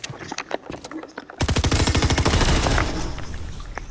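Rapid automatic gunfire from a video game bursts in after a stretch of scattered shots, a loud, dense volley that runs for over a second and then trails off into lighter firing.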